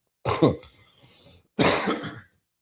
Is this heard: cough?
yes